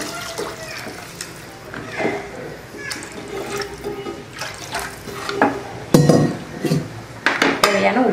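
Water poured and stirred into a pot of Tamil kuzhambu curry, with clinking of a metal spoon against the pan and splashing, close and fairly loud.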